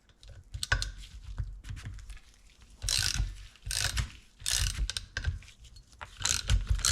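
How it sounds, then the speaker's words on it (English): A socket ratchet clicking as it turns 4.5mm Allen screws on a Honda GL1500 Goldwing front fork, in short bursts of rapid close ratcheting separated by pauses. "he's alternating the screws, a few turns on each one, in order to not jam the screw"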